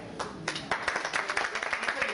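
Applause from an audience at a vocal recital with a white grand piano, a steady patter of many hands clapping at moderate distance, with some murmuring voices underneath.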